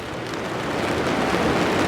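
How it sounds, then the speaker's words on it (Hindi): Heavy rain pours down steadily on a house in the mountains, a dense close wash of noise that grows slightly louder, with no speech. "पहाड़ तो झमाझम बारिश लगे ही जा रही है।"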